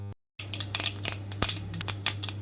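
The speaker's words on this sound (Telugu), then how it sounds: "ఆయిల్ అంతా హీట్ అయిన తర్వాత తాలింపు గింజలు అలాగే ఎండుమిరపకాయలు వేసి వేయించుకుంటున్నాను" Tempering seeds and dried red chillies frying in hot oil, crackling and spluttering in quick irregular bursts over a low steady hum, after a brief moment of silence.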